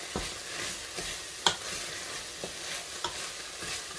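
Tomato paste fries with ground meat in an oiled pan, a steady close sizzle broken by a few scraping stirs of a spoon at irregular intervals.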